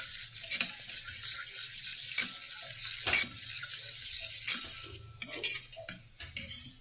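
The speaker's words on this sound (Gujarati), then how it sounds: "તેને મીડિયમ ગેસ પર તે તળવા દેવાનું છે અને આ રીતે હલાવતા રહેવાનું" Cabbage and carrots fry over medium heat in a pan for Manchurian, with a steady sizzle and repeated scrapes and clinks of a utensil stirring through the vegetables.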